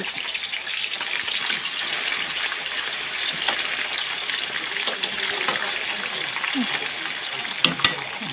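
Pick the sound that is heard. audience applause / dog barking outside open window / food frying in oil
food frying in oil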